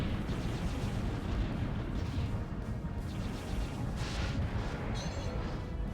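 Squire turrets firing in a video game, a constant dense barrage of booming shots and rumbling impacts with no pauses, steady and loud throughout.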